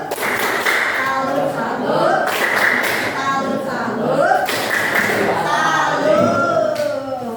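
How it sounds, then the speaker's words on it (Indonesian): A group performs a rhythmic 'tepuk salut' salute clap after a team game, with patterned bursts of clapping mixed with loud group chanting in unison. "Tepuk salut buat kelompok 3."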